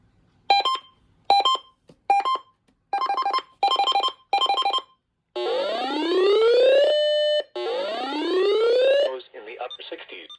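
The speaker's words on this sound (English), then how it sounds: "Exact same alert tone. I'll siren test it." A series of short electronic beeps from a NOAA weather radio, then two long rising siren-like alert tones, loud and close, each sweeping upward before cutting off.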